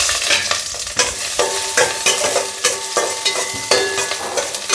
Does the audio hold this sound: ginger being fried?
yes